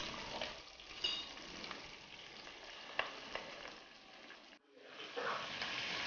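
Chicken sautés for a stew, frying loudly at close range in a steady sizzling crackle, with a few scraping stirs and a short dip before the sizzle resumes.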